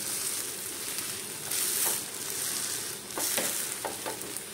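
A vrat flatbread sizzles steadily in a pan over medium heat, a continuous soft frying hiss with a few faint scrapes as it is turned, moderately quiet with no talking.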